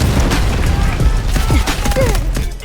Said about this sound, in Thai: โหระเบิดเยอะจริงว่ะ